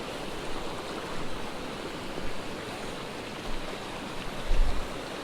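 A small mountain trout creek rushes steadily with a constant broadband wash and occasional low gurgles, heard alone with no voices.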